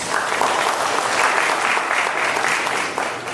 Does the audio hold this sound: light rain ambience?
no